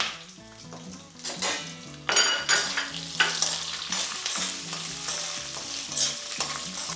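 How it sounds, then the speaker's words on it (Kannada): Small sambar onions and garlic frying and stirred in a pan for drumstick leaf curry, crackling sizzle with scraping stir strokes and occasional utensil clinks, close and steady, no voices. "ಸಾಂಬಾರು ಈರುಳ್ಳಿನ ಒಂದು ಏಳೆಂಟು ಹಾಕ್ತಿದ್ದೀನಿ"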